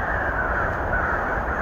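A whole flock of crows cawing together outdoors, a dense, continuous, loud chorus of overlapping harsh calls.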